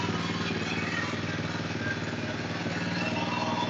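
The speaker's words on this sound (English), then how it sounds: "The throttle response is spot on. Really good idle." A Kawasaki KLX250R dirt bike with new JD jetting carburetor idles close and steady, an even, faintly clattery putter that holds without change.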